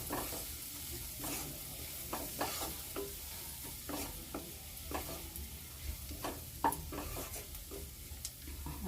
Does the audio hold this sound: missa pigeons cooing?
no